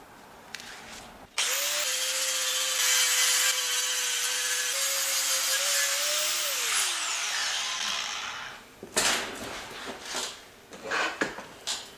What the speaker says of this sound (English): What I want to do is I want to grind off some of this base paint.